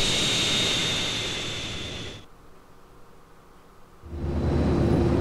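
A propeller airplane's engine in GTA San Andreas drones loud and steady with a broad roar, dropping away abruptly for about two seconds before surging back in just as strongly.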